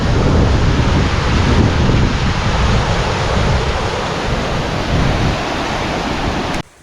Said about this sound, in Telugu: ఎంతో ఫాస్ట్గా వెళ్తుంది చూడండి వాటర్.